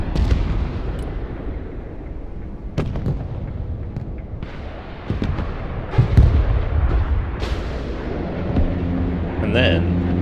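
Su-24 bombing strikes in the war game Broken Arrow: several heavy, booming blasts land a few seconds apart over a continuous rumbling battlefield din, with a louder cluster of impacts near the middle.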